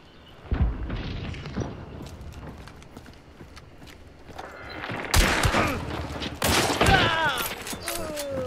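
Gunshots and bursts of gunfire in the multiplayer shooter game Hunt: Showdown, with sharp booms and crackling volleys growing louder toward the end, mixed with other game sounds and some voice.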